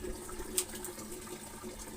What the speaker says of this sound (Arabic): دي المكان اللي انا بعبي ميه اهوت